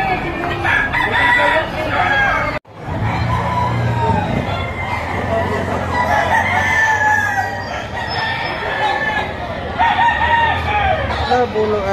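Roosters crow repeatedly amid a busy crowd at a livestock auction market in Lipa, Batangas, with clucking and people talking in the background, briefly interrupted by a cut.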